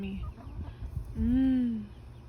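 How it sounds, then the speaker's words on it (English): Chickens cluck in a few short, close calls, ending in a longer drawn-out squawk, with no speech over them. "Come on, chickens."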